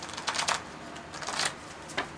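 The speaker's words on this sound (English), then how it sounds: "I'm going to be quiet a minute and I'm going to shuffle" A deck of playing cards shuffled in a quiet room, producing a few brief, faint riffling bursts at irregular intervals with soft ambience between them, no speech.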